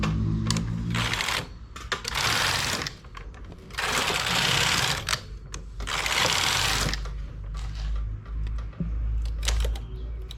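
A flatbed knitting machine's carriage sweeps back and forth across the needle bed, making loud rattling mechanical passes separated by brief pauses, with clicks between strokes.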